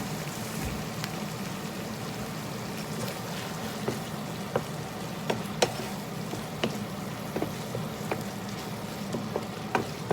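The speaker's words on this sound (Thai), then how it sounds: "เดี๋ยวเราผัดจนซอส เหนียวข้นนะคะ" Prawns stir-frying in chili sauce on low heat, a constant close sizzle with scattered small pops and occasional spatula taps against the pan.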